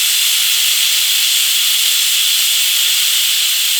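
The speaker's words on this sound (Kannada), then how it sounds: "ಸ್ಟವ್ನ ಮೀಡಿಯಂ ಫ್ಲೇಮ್ನಲ್ಲಿ ಇಟ್ಕೊಂಡು ಒಂದು ವಿಷಲ್ ಕೂಗಿಸ್ಕೊಳ್ಳೋಣ." A pressure cooker on a stove over medium flame lets out one loud, sustained, high steam whistle hiss that holds steady and close for nearly four seconds before cutting off abruptly.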